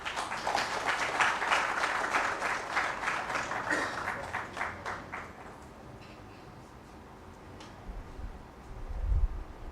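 An audience at a national wildlife conservation conference applauds to close the presentations: dense, steady clapping for several seconds that thins out and fades, with a soft low thump near the end.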